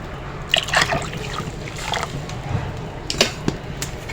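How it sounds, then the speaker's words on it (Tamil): Water is poured into a pot of Chettinad fish curry, giving soft, close trickling and splashing that comes in a few short bursts over a low background hiss. "கொஞ்சம் தண்ணி ஊற்றிக்கிடுவோம்"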